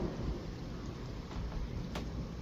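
Stationary thunderstorm over Bordeaux, with a steady roar of heavy rain and low rumbling thunder filling the background, and one brief sharp crack standing out near the end.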